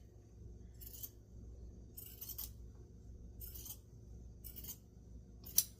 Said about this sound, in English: So we are going to cut this bottom piece off here of this pocket that's hanging over.